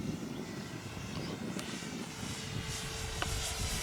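A Flightline RC Spitfire MK model warbird cruises at half throttle, its steady propeller drone continuous and moderately distant, with no voices over it.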